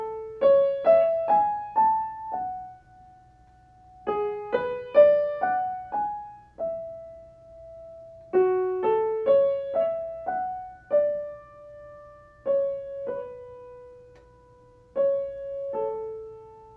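An orchestra plays a lyrical melody from the third movement of a Second Symphony in repeated phrases, clusters of quick notes settling onto long held tones, with no voices present.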